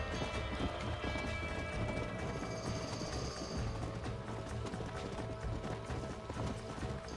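Galloping hooves drum continuously and close in Red Dead Redemption 2 as a rider chases a fleeing stallion, a fast even clatter with no talking.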